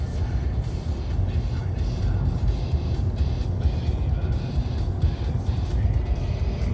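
A VW e-Golf electric car with a 100 kW motor cruises on the Autobahn, giving a loud, steady rush of tyre roar and wind noise that holds without break from start to end.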